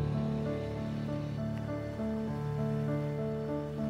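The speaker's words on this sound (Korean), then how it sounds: "바람과 파도는 오늘도 변함없이 성을 맴돌고 있다" Sea surf and wind wash steadily around a clifftop castle on the Scottish coast, a continuous rushing roar with a low drone running beneath it, no voices.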